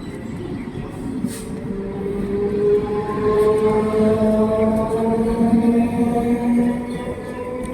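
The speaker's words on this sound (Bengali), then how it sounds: "ট্রেন গেটের দিকে চলে গেল।" A train passes through a station, its steady rumbling roll rising and holding loud with long, sustained tonal whines from the wheels and motors before easing slightly.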